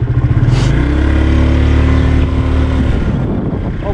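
A 2007 scooter engine runs close by in an open field, a steady, fairly loud motor drone with a slight rise in revs and no talk over it.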